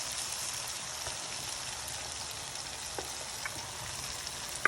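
Lamb brain (maghaz) frying in a pan with oil, a soft, steady sizzle and crackle with faint pops, close and uninterrupted, no talking.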